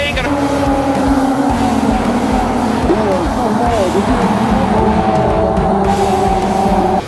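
Race cars at the start of a race roar with a dense, loud engine drone, and rising and falling engine pitches sweep through as the field accelerates away.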